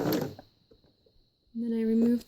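A domestic sewing machine backstitches while a star is attached to a tee, a short steady motor hum near the end after a brief spoken remark and a quiet pause.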